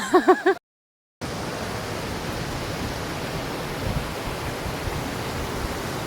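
Steady broadband roar of a waterfall along a rural stream, loud and continuous after a brief burst of other sound and a short gap of silence.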